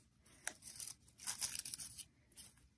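Scissors cutting green crepe paper into thin strips for paper flower foliage, a series of close crisp snips and rustling paper crinkles with no talking.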